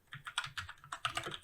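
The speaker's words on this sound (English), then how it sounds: "So we will start by simple typing." Fingers type quickly on a computer keyboard during a programming lesson. A close, crisp clatter of rapid keystrokes plays alone with no talk.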